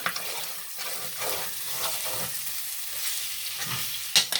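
Potatoes frying and being stirred in a pan while they begin to stick and brown on the bottom, giving a steady close sizzle with scraping stir strokes throughout.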